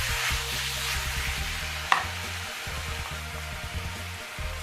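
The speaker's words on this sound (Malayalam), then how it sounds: "നമുക്ക് കൂൺ ചേർത്ത് കൊടുക്കാം. നന്നായിട്ട് ഇളക്കി യോജിപ്പിക്കാം." Mushrooms stirred in a pan for a Kerala-style mushroom roast: a steady, soft sizzle with repeated scraping strokes of the spoon, one sharp clink partway through, close by with no talk.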